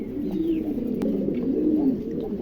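A pair of charla pigeons coos steadily, a low continuous rolling murmur of overlapping coos that fills the whole moment at close range, with no voices.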